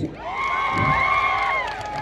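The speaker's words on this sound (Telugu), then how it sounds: "ఒకసారి నా పర్ఫార్మెన్స్ నచ్చినోడు గట్టిగా క్లాప్స్ కొట్టండి" At a village festival event, a crowd lets out a brief, loud burst of cheering and whooping with rising, wavering shouts, lasting about two seconds.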